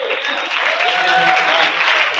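An audience at a trainer workshop breaks into steady applause, a dense, loud, continuous clapping from a roomful of people with faint voices mixed in.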